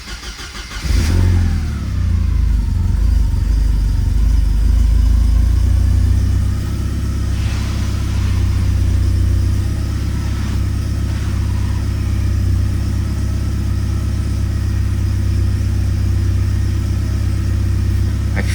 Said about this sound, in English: I'm going to fire up the car.